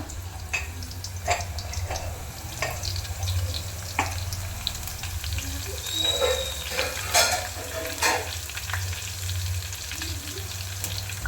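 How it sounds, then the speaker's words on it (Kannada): Garlic fries in hot oil for a fenugreek leaf stir-fry, a steady close sizzle and crackle with occasional stirring clinks and scrapes, no voices. "ಎಣ್ಣೆ ಕಾದಿದೆ, ಇದರಲ್ಲಿ ಬೆಳ್ಳುಳ್ಳಿ ಹಾಕೋಣ."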